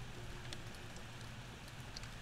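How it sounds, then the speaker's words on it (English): Rain falls steadily in a video game, a faint, even hiss with scattered soft drops throughout. "Can we just have our nice sit down? Listen to the rain?"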